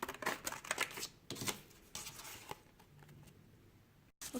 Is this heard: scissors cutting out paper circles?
yes